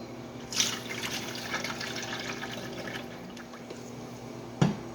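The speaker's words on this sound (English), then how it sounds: "So we're going to pour the oil into our bucket." Oil poured into a soap-making bucket, a steady liquid trickle with a small splash at the start and a clunk near the end, close and fairly quiet.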